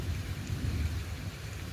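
Morning rain falls in a steady, moderate wash with a low rumble underneath, continuous and fairly quiet, with no voices.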